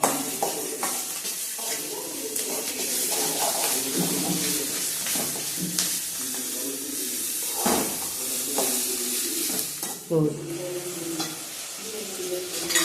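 Mushroom gravy stirred in a frying pan, a steady sizzle with scraping spoon strokes against the pan running throughout at close range, with a few louder clatters.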